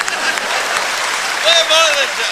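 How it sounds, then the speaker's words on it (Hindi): A live audience claps in a broad, steady burst of applause, with a brief voice rising over the clapping near the end. "इधर से तालियां कम बज रही हैं, इधर का मामला ठीक है।"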